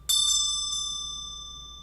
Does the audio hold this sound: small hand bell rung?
yes